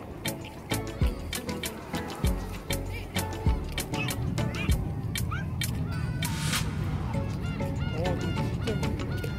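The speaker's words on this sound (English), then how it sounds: "Plenty of seagulls, as this is one of the famous places to buy fresh fish." Seagulls call repeatedly at a seaside fish market in Oido, Siheung, giving honking cries over a dense, busy background with dripping and splashing water.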